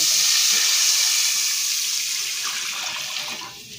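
Water pours steadily into a cooking pot for pongal rice, a close, even hissing stream that tapers off at the end.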